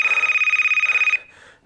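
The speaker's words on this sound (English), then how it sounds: "You have a phone call." A telephone rings for an incoming call, a rapid warbling electronic trill held steady and loud for about a second before cutting off into quiet room tone.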